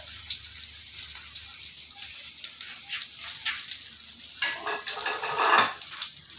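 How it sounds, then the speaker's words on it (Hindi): Pizza cutlets fry in a pan over a low flame, giving a steady close sizzle with scattered crackles and a brief louder burst near the end, with no talking. "फ्राई कर रहा हूँ इसको।"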